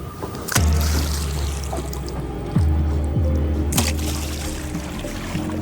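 Loud splashes of water in a river, a few sharp slaps spaced apart, with churning and dripping between them, as a hand beats the surface to mimic a large crocodile.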